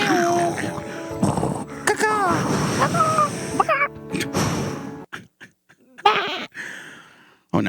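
Goats bleat in a run of loud, wavering cries, several overlapping calls close by with pauses between, while people talk over and between them.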